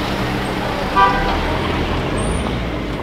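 Holiday road traffic around midnight on the road to Manisa keeps up a steady engine and road rumble, broken by one short car horn toot near the start.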